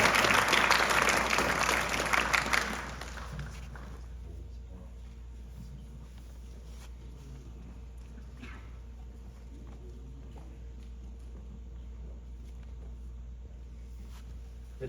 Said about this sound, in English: Please give them a round of applause for their efforts and dedication in preparing these lieutenants for the challenges ahead.